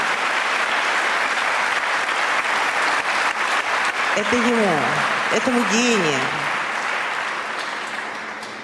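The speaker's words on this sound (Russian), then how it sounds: "ваши аплодисменты" An audience at an ice show claps in sustained applause throughout, a thick even roar of hands, while someone speaks over it midway, the clapping slowly thinning toward the end.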